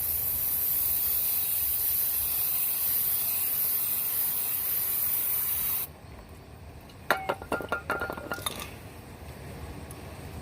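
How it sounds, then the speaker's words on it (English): Brake cleaner spraying onto the rear differential of a 2011 Ford Expedition, a loud continuous aerosol hiss that cuts off abruptly, followed by a few close metallic clinks and rattles. "take some brake cleaner and clean off the differential"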